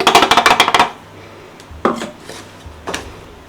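Rava laddu mixture with ground sugar and cardamom stirred in a vessel: a quick run of rhythmic clattering scrapes at the start, then two separate scraping strokes after a pause, close by, with no talk.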